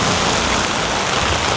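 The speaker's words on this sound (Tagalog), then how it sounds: "Hindi na tayo lalayo kasi nga sobrang lakas ng ulan." Heavy rain pours down in a dense, continuous hiss with no voices, loud and close throughout, on Boracay island in the Philippines.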